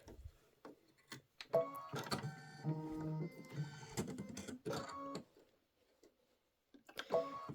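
Embroidery machine sewing a quilting stitch on a quilt block, a rapid mechanical whirring and ticking in bursts with short pauses between runs, close and moderately quiet.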